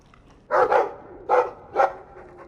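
A dog in the fantasy role-playing game Dragon Age 2 gives three short, close barks, a quick double bark followed by two single ones, with a faint whine at the end.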